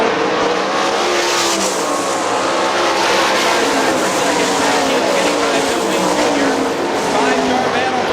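Sprint cars race at Hartford Speedway Park in a 2003 GLOSS Sprints event, a loud, continuous engine roar throughout with a commentator talking over it.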